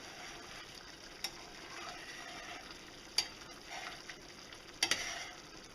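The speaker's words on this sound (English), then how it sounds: "You can see when I scrape the pan how it comes away" A spoon scrapes across a pan of thickening mushroom gravy over a soft, steady simmering hiss, with a few sharp scraping clicks standing out, quiet and close, without speech.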